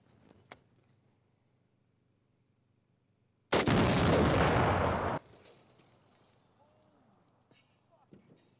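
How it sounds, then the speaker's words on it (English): One sudden, loud blast of a truck exploding erupts from near silence, roaring for about two seconds before cutting off, followed by faint scattered clatter of shrapnel and debris. "Blowing up a truck, so let's get a nice big explosion"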